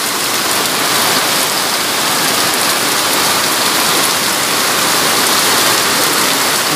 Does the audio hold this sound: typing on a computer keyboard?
no